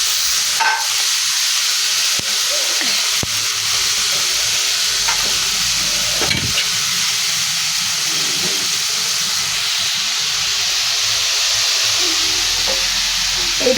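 Papaya with neem leaves fries in oil in a pan, producing a loud, steady hiss and sizzle close by, with a few scraping stirs and clatters over the constant frying noise.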